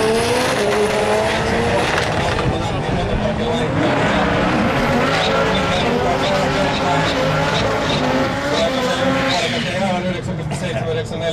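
Race car at the Kamasa Tools Nationals at Alastaro, 2010, driving on the track with a loud, continuous engine roar that rises and falls in pitch through gear changes, under a commentator's talk.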